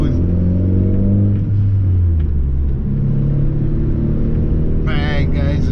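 A Volkswagen Mk4 GTI with a big-turbo 1.8T engine pulls hard through the gears on a night drive. The engine drones loud and close, its pitch rising and then dropping at each shift, over a steady rumble.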